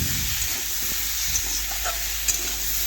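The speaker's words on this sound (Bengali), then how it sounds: "আর দেখুন, খুরপি দিয়ে একটু নাড়াচাড়া করে একটু আমটা ভেজে নেব।" Raw mango pieces with a little turmeric fry in a pan, a steady close sizzle with soft scraping as a spatula stirs them, and a couple of brief clinks, with no talking.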